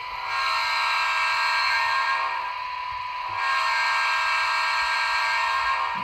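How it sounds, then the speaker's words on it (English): A steady, loud electronic model train locomotive horn blast with rich harmonics, held for a few seconds, briefly dipping before sounding again continuously. "Let's take a listen to what the horn sounds like."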